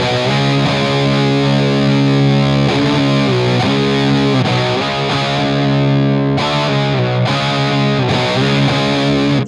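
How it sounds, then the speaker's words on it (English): Electric guitar played through a Monkey Riot Backseat Driver overdrive pedal into a Matchless amp, thick sustained distorted chords ringing continuously and loud, with brief changes between strums, no voices. "If you're trying to boost up an amp, this is pretty traditional overdrive sound on the Matchless."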